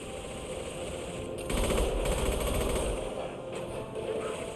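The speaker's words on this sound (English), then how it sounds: "Firing concussive shot." A concussive shot power fires in Mass Effect 2 Legendary Edition, a weighty burst with a rumbling low end that swells midway and then trails off under steady combat ambience, with no talking.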